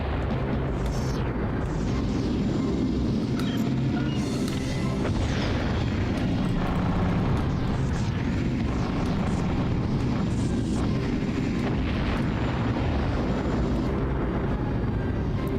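A spaceship blows up in the PS1 space combat game Colony Wars: a sustained, dense roar of booming explosions and rumbling engine noise, loud and continuous, with no talking.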